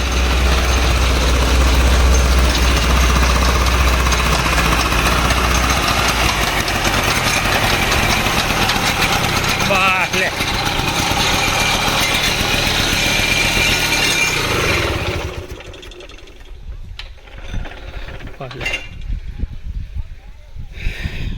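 A farm engine hauls the water pipe up out of a 350-foot borewell, its loud, steady mechanical drone running continuously before dropping away near the end and leaving quieter, scattered noises.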